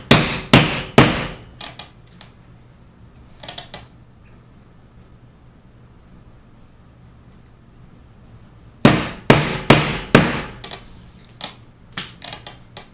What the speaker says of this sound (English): the way I make these holes is I literally just do a hole, a normal round hole on either end